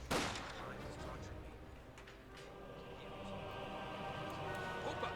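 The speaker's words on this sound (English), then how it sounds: "Here comes the mortar." Mortar fire in Company of Heroes 2, a World War II strategy game: a sharp blast opens the moment, followed by a rumbling, lingering battle din while a commentator talks over it.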